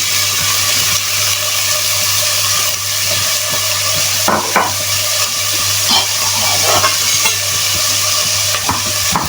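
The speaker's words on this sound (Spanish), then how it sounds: "Vamos a empezar a freír esto. Vale, vamos a poner nuestras cebollas. Los ajos tiernos también." Onions and tender garlic frying in a pan, a loud, steady sizzle with occasional scraping and knocking of a utensil stirring the pan, and no voices heard.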